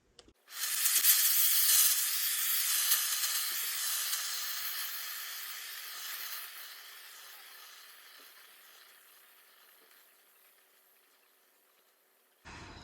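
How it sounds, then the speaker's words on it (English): A spray paint can hisses in one long, steady burst, close and bright, slowly fading off before a brief click at the end. "so now we're gonna spray paint our thingy"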